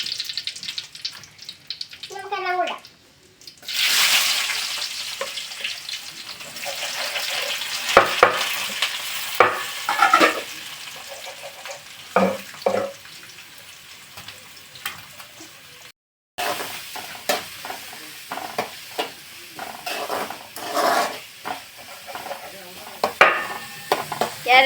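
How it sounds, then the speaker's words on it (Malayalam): Carrots and other vegetables frying in a pan while being stirred, with a steady sizzle and repeated scraping stirs up close throughout, pausing briefly midway. "ക്യാരറ്റും എല്ലാം കൂടി ഇട്ട് ഇളക്കിയാണ്"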